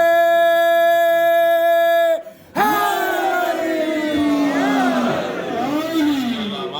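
A crowd at an Eid Milad-un-Nabi gathering in Glasgow chants slogans loudly in unison, first with a held, tuneful call and then, after a brief gap, with a swelling mass of voices raised together in a roaring response.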